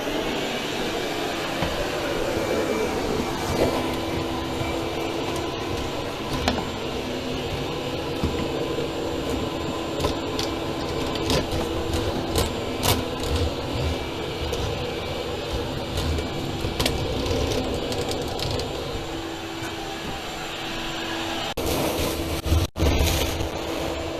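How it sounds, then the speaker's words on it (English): Vacuum hose reversed to blow air through a dryer vent, a steady loud motor roar running continuously for over twenty seconds with occasional clunks and rattles, close by, no talking. "Now I'm going to reverse the hose and blow it, and we'll see how much stuff comes out the other end."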